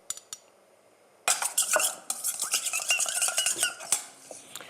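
Walnut oil vinaigrette being whisked in a bowl, a close, steady clatter of metal against the dish that starts abruptly and keeps a busy, scraping rhythm for several seconds.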